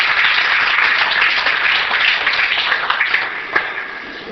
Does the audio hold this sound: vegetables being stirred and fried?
no